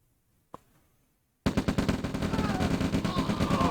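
Units in the strategy game OpenRA Red Alert open fire in a sustained rattling volley of rapid gunshots, loud and continuous after a single earlier shot and a moment of silence.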